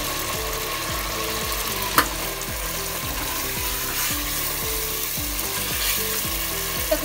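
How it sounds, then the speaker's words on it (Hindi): Mutton pieces frying in spice masala with turmeric and salt on high flame for gobhi gosht, a loud steady sizzle with a regular repeating scrape-and-clatter rhythm of stirring, close up and without speech. "तकरीबन 1 मिनट की भुनाई कर लेंगे मसाले में गोश्त को इस तरह से हाई फ्लेम पर"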